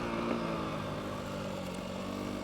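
Off-road dirt bike ridden in second gear on a trail, its engine droning steadily and close throughout, with a constant buzzing tone.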